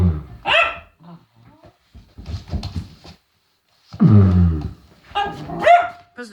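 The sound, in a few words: dog barking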